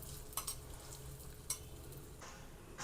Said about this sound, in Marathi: हे ड्रायफ्रूट टाकून पण हे चांगलं असं फ्राय करून घेऊया